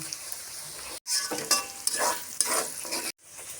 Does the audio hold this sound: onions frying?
yes